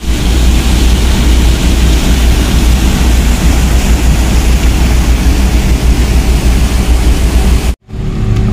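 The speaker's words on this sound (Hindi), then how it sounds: "सुपर पावर इंजन है" A ship's engine running hard as the vessel gets under way after raising anchor, a loud steady broadband rumble and roar that holds for several seconds before briefly cutting out near the end.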